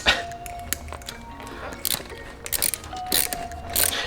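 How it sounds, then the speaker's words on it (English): A hand ratchet turns the top nut of a Raceland coilover on an R56 Mini, making soft, close mechanical clicking and ratcheting in short bursts over a faint background hum. "You're gonna hold the top with a ratchet"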